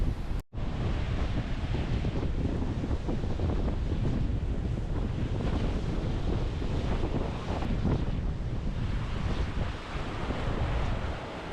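Strong wind and rolling surf on a clean Blue Flag beach at Ventspils on the Latvian Baltic coast, a loud, steady roar of gusts buffeting the microphone over breaking waves, continuous for the whole stretch.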